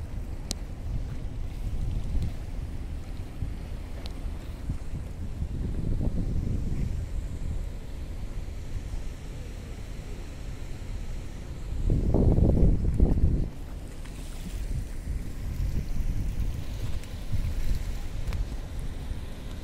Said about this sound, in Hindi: पानी की आवाज आ रही है